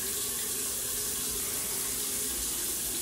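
Water runs steadily onto a curly wig to bring out its curl pattern, a continuous close rushing splash like a running tap, with no talking.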